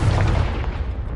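A Confringo blasting spell goes off in Hogwarts Legacy, a loud, close, booming explosion with heavy low rumble that holds steady and slowly fades over a little more than a second, with no voices.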